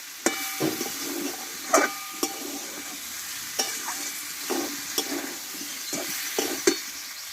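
Green chillies and dried red chillies fry in hot oil in a pan for a vegetarian potato and pointed gourd dish. The oil crackles and sizzles steadily while a spatula scrapes and taps against the pan in repeated strokes, close by.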